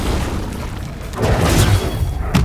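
An Incendio fire spell blast in the game Hogwarts Legacy, a loud whooshing burst with crackling impacts amid combat noise, followed by a brief sharp hit near the end.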